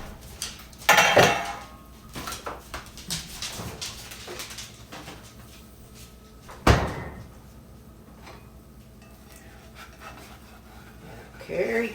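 A bag of frozen cheese goes back into a home freezer alongside onions, with loud rustling and bumping, a sharp thud, clattering packages and a door knock, plus faint talk in the background.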